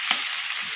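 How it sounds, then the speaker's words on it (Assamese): Sliced onions sizzle in hot oil while being fried to a golden colour, a steady bright hiss close by with a soft stir at the start and another near the end. "স্লাইচ কৰি ৰখা পিঁয়াজখিনি গল্ডেন কালাৰ ভাজিম"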